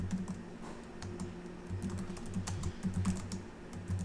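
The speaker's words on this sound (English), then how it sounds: "you can type in whatever notes you want to put in there about the transaction" Continuous typing on a computer keyboard, quick irregular clicks of keys entering notes, close and clear over a faint low hum, with no talking.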